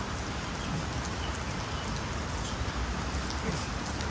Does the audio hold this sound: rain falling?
yes